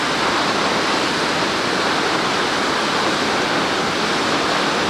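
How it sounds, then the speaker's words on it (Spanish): The Quetzalapan waterfall, a drop of about 100 metres, roars as a dense, steady rush of falling water heard from roughly 200 metres away from its base, constant and unbroken, with no voices. "esta es una primera vista de la cascada de Quetzalapan a 200 metros de su base"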